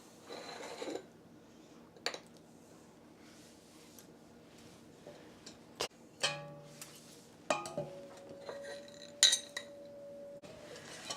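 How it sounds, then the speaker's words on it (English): A utensil scrapes and clinks against a pan as butter is stirred into hot caramel sauce, with scattered metallic taps and knocks over a quiet background and one brief sustained ringing tone. "Now we'll stir this until the butter or margarine is completely melted."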